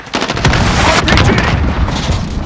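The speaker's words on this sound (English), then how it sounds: "RPG." An RPG rocket explodes in a first-person shooter game, a loud close blast blended with rapid gunfire bursts and rumbling booms over a couple of seconds.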